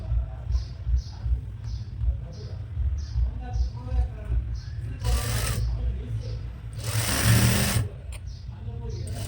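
A sewing machine stitches frock and nighty fabric in quick rhythmic bursts, close and steady, with brief pauses, fabric handling and a louder run near the end.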